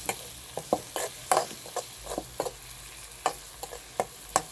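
Sharp crackles and pops of curry leaves sizzling in hot oil for a tempering, irregular bursts close up over a quiet background, with no talking.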